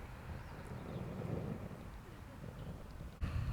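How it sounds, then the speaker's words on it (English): Wind gusts buffet an outdoor microphone on a blustery coastal stretch at Fort Gilkicker, a steady low rumble that swells slightly and stays fairly faint throughout, with no voices. "Yeah, it's quite windy here"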